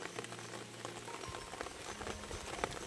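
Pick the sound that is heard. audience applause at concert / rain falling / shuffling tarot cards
rain falling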